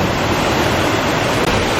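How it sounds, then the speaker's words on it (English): A steady, full-bodied roar of falling water at Martin Falls, a waterfall in northwest Montana, heard up close as a constant broadband rush with no breaks and no voices. "These falls are awesome."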